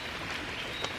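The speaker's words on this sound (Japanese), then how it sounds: "雨ということで" Rain falls steadily at a campsite during tent packing, a dense, even hiss throughout with a faint patter, no voices.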